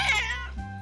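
A cartoon wild cat lets out a single drawn-out meow, loud and close, falling in pitch toward the end.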